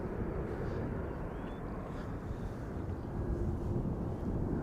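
A Delta Airbus A350-900 at Schiphol Airport spooling up its jet engines, a distant low rumbling roar that holds steady, faint and mixed with wind across the microphone.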